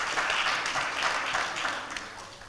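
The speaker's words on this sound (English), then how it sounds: "I think they all deserve a round of applause again." A conference audience applauding, dense steady clapping from many hands that fades slightly toward the end.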